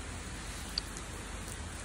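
Rain falls outside in winter weather as a steady, even hiss of drops, with no other sounds over it.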